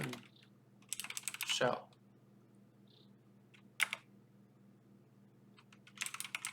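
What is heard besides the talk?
typing on a computer keyboard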